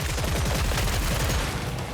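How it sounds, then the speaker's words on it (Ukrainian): Rapid automatic gunfire from a flying drone in the video game Killing Floor 3, a dense continuous burst of shots lasting throughout, loud and steady with no talk over it. "Ви бачиш, як дрон стріляє."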